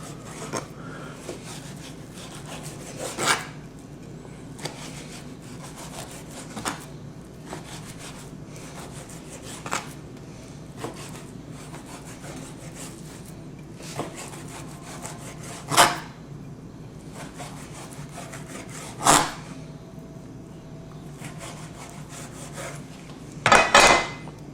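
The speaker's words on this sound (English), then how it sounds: "And then you cut this into about 1-inch strips." Knife slicing a diamond-scored flank steak into strips for carne asada, heard as soft repeated rubbing strokes against a board, with a few sharper taps and clicks standing out, close and fairly quiet, no talking.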